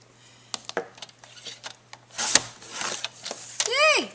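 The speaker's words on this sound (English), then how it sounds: "we're just going to cut them into 6-inch strips." Scissors cutting through a stack of paper into 6-inch strips, a series of close, crisp snips and crunches at an uneven pace, ending in a rising squeaky swoosh.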